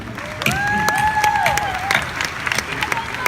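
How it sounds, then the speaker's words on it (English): Audience at a Keller Williams leadership camp in Austin applauding, a dense wash of clapping with scattered sharp claps and a whistle-like tone rising over it, moderately loud crowd noise. "let's give those folks a round of applause, please"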